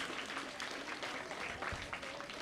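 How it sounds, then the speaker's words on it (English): Students and audience at a primary school devices handover ceremony in Mahaut clap steadily, a dense, even patter of many hands filling the whole moment at a moderate distance. "Let us give them a round of applause."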